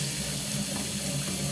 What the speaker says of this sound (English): Now you have to add 3 cups of warm water.